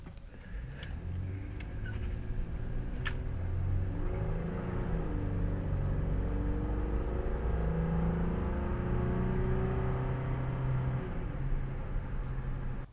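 A 2000 Nissan Frontier XE pickup with a VG33E single overhead cam V6 and five-speed automatic idles steadily with a low, even hum, joined early by a few sharp metallic clicks and jingles.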